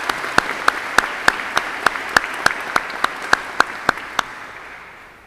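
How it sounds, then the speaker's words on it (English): Applause from the audience at a spring honors convocation for newly inducted honor society members, a soft bed of clapping with one close, sharp clapper beating a steady rhythm before it fades out. "So one more round of applause for all of our Epsilon Sigma Pi inductees."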